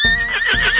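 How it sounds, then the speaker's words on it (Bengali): A horse whinnies in one loud, close, shrill neigh that wavers throughout its short length and stands alone with no talk. "এটা হলো হর্স। ঘোড়া এরকম করে ডাকে।"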